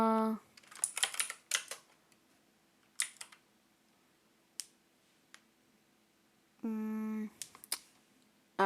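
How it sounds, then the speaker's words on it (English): Sharp, close keystrokes on a computer keyboard while coding a simple button game, coming in bursts with pauses, plus a couple of brief tonal beeps from the computer. "be silent while I type this"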